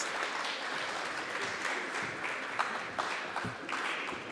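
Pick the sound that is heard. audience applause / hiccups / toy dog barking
audience applause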